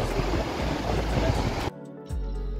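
Jogini waterfall near Manali, water dropping roughly 150 metres between mountains, a loud steady broadband roar that cuts off abruptly near the end, leaving quieter low rumble.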